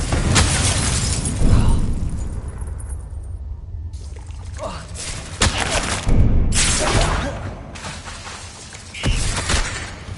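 Loud spell blasts from the Confringo fire curse in Hogwarts Legacy, several sharp bursts with crackling tails spread across the scene, mixed with other game effects.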